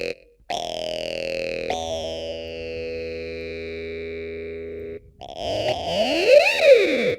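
A Prodyon Shortnoise 2 synthesizer with drive distortion plays gritty held notes, then shifts into a vowel-like talk filter effect that sweeps up and down, loud and close.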